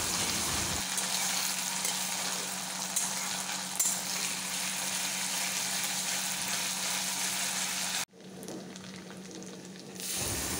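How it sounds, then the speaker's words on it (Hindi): Sliced onion fries with ginger garlic paste in a pan, a steady close hiss of sizzling oil, briefly cut off before resuming. "जब लाइट ब्राउन हो जाए प्याज, तब हम इस पे थोड़ा सा जिंजर गार्लिक का पेस्ट ऐड कर रहे हैं और अच्छे से इसका रॉनेस ख़त्म होने तक भून रहे हैं।"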